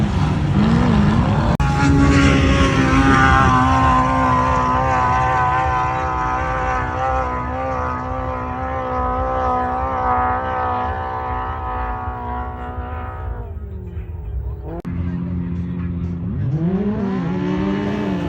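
Off-road sand cars racing on the dunes at Glamis, a loud sustained engine roar that holds steady and then fades away before another engine note rises again near the end.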